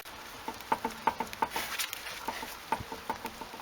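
Light rain begins to fall outdoors at a home driveway where a car is raised for wheel work, a sparse, quiet patter of individual drops ticking irregularly.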